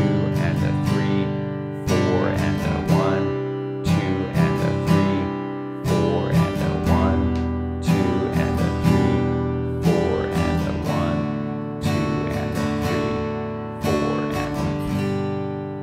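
Guitar strummed in a repeating sixteenth-note pattern, two downbeats followed by quick three-stroke groupings, cycling evenly about every two seconds, full and close with no voice over it.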